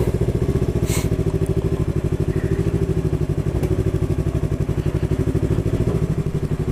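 A 2019 Yamaha R3 motorcycle engine idles close by with a rapid, steady pulsing thrum and light mechanical clatter, running evenly throughout with no voices.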